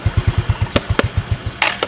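A motorcycle engine idles close by with a rhythmic, evenly spaced putt-putt beat, about seven pulses a second, broken by a few sharp clicks and a short hiss near the end.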